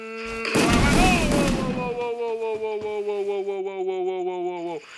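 A loud burst of gunfire in the video game Free Fire, Bermuda Remastered map, opens the clip, followed by a sustained, fading tonal ring lasting several seconds.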